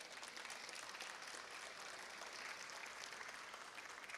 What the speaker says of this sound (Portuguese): Aqui eu peço aplauso em nome dos demais, por favor.